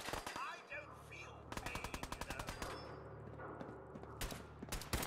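Rapid bursts of automatic gunfire from a Fallout 4 firefight crackle in quick rhythmic volleys, with a few isolated sharp shots afterward, mixed with brief voice chatter.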